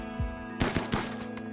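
Gunfire in the colony-survival video game RimWorld, a quick burst of three sharp shots in close succession after a faint low thud, quiet overall with no talk.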